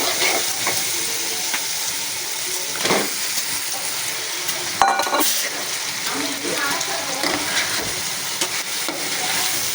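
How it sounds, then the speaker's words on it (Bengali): Fried stinging catfish is stirred and sautéed in a pan, giving a steady loud sizzle with a constant frying hiss and intermittent scraping stirs of a spatula, close up throughout. "ভাজা শিং মাছ দিয়ে দিলাম, এখন সুন্দরভাবে কষাবো নেড়ে চেড়ে"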